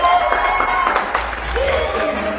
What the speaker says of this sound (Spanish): Un aplauso de nuestro público para las dos.